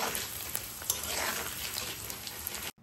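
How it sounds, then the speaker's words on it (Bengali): Potato pieces fry in hot oil with salt and turmeric, giving a close, continuous crackling sizzle with a few sharper pops. The sound stops abruptly just before the end, and no one speaks. "লবণ হলুদ দিয়ে ভালো করে ভেজে নিব লাল লাল করে।"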